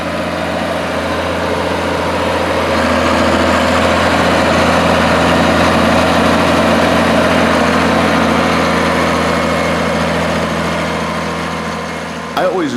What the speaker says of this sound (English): a John Deere 8630 four-wheel drive tractor with a Degelman blade pushing the silage